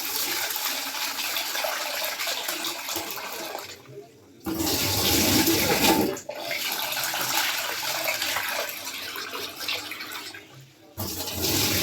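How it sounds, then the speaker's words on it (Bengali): Rice is rinsed in water, a loud close rush of running and sloshing water in long bursts separated by brief pauses, with no talk. "ভাতটা বসিয়ে দেবো আর কালকের জন্য চালটা ধুয়ে নেবো।"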